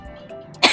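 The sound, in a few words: person coughing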